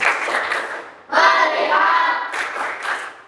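A class in an Islamic jurisprudence teacher-training session performs the rhythmic 'tepuk fokus' clapping routine: voices chant together in a loud group, then clusters of quick, sharp claps punctuate the pattern near the end.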